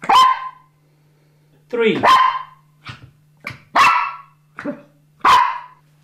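A small poodle barks sharply on a counting cue, several separate close yaps spaced a second or so apart, while someone talks between them.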